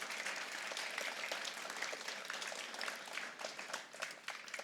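A Grade 4 school assembly audience applauds pupils receiving awards, a soft, steady patter of clapping at moderate distance that carries on throughout.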